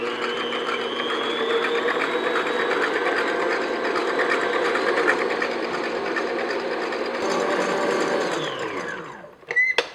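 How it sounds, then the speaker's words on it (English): An electric mixer beats egg whites with cream of tartar at medium speed, a steady, close whirring hum that runs evenly for several seconds before winding down and stopping, followed by a couple of brief clacks. "I'm going to continue to beat this on, say, medium speed until we get soft peaks"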